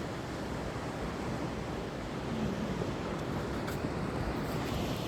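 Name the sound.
sea waves on the shore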